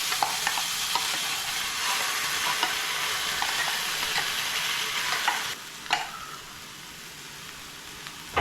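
Ground paste goes into a pan of Kerala kadala curry and sizzles loudly and steadily, with spatters and stirring scrapes, then drops to a quieter fizz with a few clinks.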